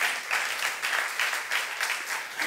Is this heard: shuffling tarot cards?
no